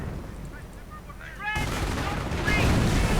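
Mortar fire during a Company of Heroes match: a sudden loud blast partway through gives way to a sustained rumbling battle din, with faint tonal game sounds before it.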